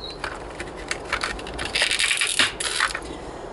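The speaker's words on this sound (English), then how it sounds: "And I will remove the loco from the packaging." A model locomotive is pulled from its packaging, giving close crinkling and rustling of plastic and cardboard in irregular bursts that grow louder near the middle.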